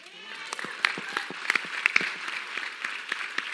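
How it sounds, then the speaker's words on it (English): An audience claps during an MLK Day education panel, with scattered, moderately loud hand claps forming a light, uneven patter that continues steadily for several seconds. "see if y'all keep clapping"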